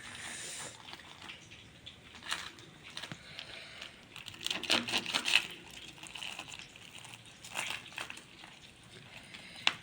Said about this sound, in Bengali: আমি ছুরি দিয়ে কেটে দেখাচ্ছি তোমাদেরকে যে কত সুন্দর ভেতরটা সেদ্ধ হয়ে গেছে চিকেনটা